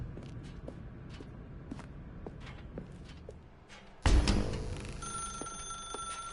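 An office telephone rings in The Stanley Parable, sharp bell rings standing out against quiet room ambience and soft footsteps, then a louder sustained ring takes over the second half with no one speaking.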